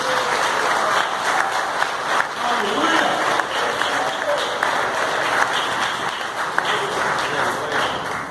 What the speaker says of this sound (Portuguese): Você pode dar uma salva de palmas ao Senhor por isso?